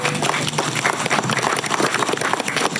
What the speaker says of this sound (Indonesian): Oke, tepuk tangan untuk Pak Rudi.